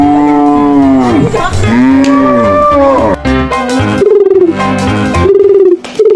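A cow moos loudly several times in long, drawn-out lowing calls, close by, with no talking.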